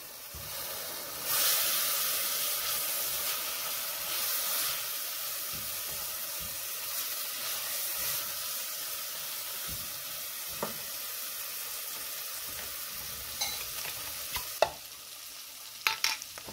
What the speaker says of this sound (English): While we are sauteing that, we're also going to add in the equivalent of about one minced clove of garlic